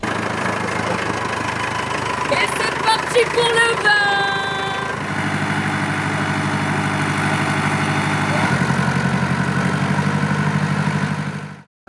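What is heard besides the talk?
tractor engine running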